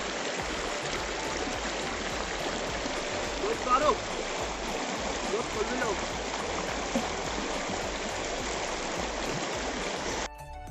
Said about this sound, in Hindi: तो फाइनली जूते उतार के मैंने नदी को पार किया है